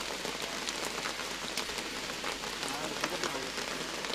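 Rain falling steadily over a cricket ground during a local tournament match, a dense, even hiss of drops with faint speech-like murmurs in the distance.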